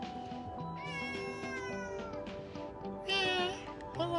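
A cat meows several times close by, drawn-out tonal cries with a louder, higher call near the end, over low background sound and music-like tones.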